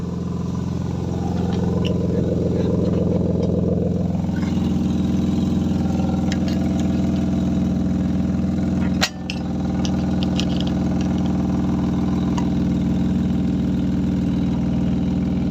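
BMW 328i with a custom exhaust line, valve closed, idling steadily with a smooth, deep mid-low drone close by, one brief sharp click partway through.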